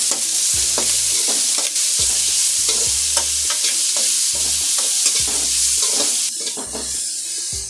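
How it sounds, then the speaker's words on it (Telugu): Curry leaves and tomato frying in a hot pan for sambar, a loud steady sizzle with repeated stirring scrapes of a spoon against the pan, close up and with no voices. "ఇందులోనే కొద్దిగా కరివేపాకు, టమాటో వేసి కొంచెం ఫ్రై చేసుకోవాలా."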